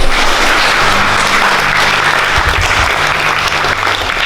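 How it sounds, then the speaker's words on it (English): A loud audience gives sustained applause at the Miss Runway Supermodel Australia pre-finals, a sustainable fashion show, with a thick, continuous roar of clapping over low background music. "Let's all give them a big round of applause."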